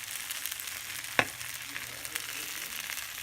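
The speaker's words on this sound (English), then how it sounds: "When you deep fry it, all of these masalas will actually get into the oil and the oil becomes orange color." Six marinated quails deep frying in coconut oil with masala spices, a steady crackling sizzle throughout with one sharp pop near the middle, no voices.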